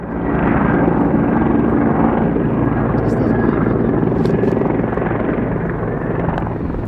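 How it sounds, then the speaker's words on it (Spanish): Firefighting helicopters drop water from large slung buckets as their rotors keep up a loud, continuous whir. Someone speaks in Spanish over the steady drone. "están los helicópteros trabajando, tirando agua en esos cubos tan grandes que cargan"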